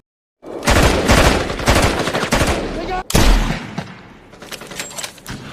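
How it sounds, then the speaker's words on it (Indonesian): Gunfire in a firefight from a film about French elite troops rescuing journalists: loud bursts of automatic fire and rapid shots crackle in overlapping volleys, with a sharp blast midway before the shooting thins out. "Namun pasukan Zaev mulai mengejarnya sehingga kontak senjata pun tidak bisa terhindarkan."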